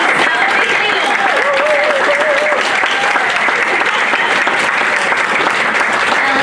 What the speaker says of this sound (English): shall we all just give one massive applause